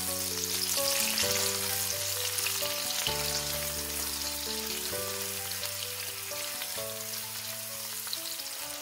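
Schezwan chicken stir-fries with dried red chillies and chopped green onion in a hot pan, a steady hissing sizzle that runs throughout beneath background music.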